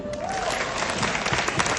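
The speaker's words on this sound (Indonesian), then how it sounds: "Tepuk tangan buat Bapak Ibu semua." Audience applause at a seminar, a thick continuous roar of clapping hands with a voice sounding briefly over it.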